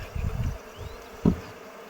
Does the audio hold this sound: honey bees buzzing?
yes